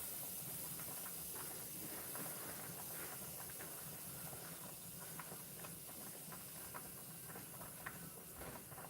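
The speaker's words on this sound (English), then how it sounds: "The soup just boiled over in the pan on the stove." Vegetable soup boiling over in a pan on a stove, a steady loud hiss and sizzle of liquid spilling onto the hot burner, continuous throughout with small crackling pops.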